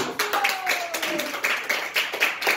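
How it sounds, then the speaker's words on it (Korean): A church congregation at a Sunday afternoon service performs a rhythmic five-beat clap, bursts of hand claps repeating in patterned groups, close and lively, with voices calling out over them. "오절 박수"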